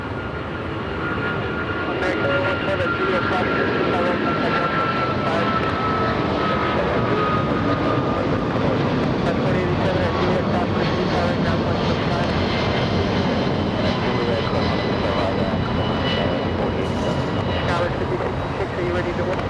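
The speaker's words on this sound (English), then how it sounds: "Hear this, Trent engines, Rolls-Royce Trent" An American Airlines heavy jet with Rolls-Royce Trent 800 engines at LAX gives a loud, sustained engine roar that swells and holds throughout, with radio voices talking over it.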